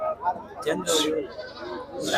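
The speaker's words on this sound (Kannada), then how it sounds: "ಎಲ್ಲ ಓತ್ ಮರಿ ಅಂತ ನೋಡ್ರಿ" Young male goat kids at the Chitradurga goat market bleating in short, thin cries, several close calls mixed with bargaining voices and market talk.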